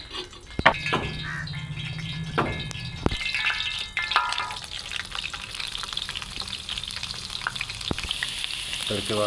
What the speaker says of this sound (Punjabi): ਤੜਕੇ ਵਾਸਤੇ ਲਸਣ ਪਾ ਦਿੱਤਾ।